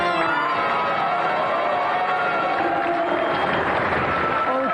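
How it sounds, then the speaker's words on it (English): A TV game show studio audience applauds a departing contestant on a wrestling-themed gaming programme, steady close clapping with some cheering mixed in. "Round of applause for Mark"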